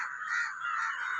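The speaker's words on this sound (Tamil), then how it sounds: "காக்கா நிறையா கத்துது பாருங்க." Crows caw in a garden, a dense, continuous chorus of harsh calls from several birds at moderate distance, with no talking.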